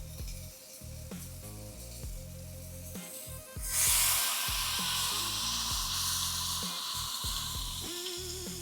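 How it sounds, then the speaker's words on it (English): A smash burger patty sizzles in a hot pan, a soft crackling hiss that swells louder partway through over a low background hum. "Let that sizzle up."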